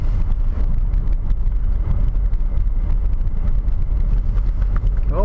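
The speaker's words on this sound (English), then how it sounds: "I'm driving at 30 kilometers an hour on the snow" A car drives at 30 km/h on a snow-covered road in winter, with a steady low rumble of engine and tyres throughout.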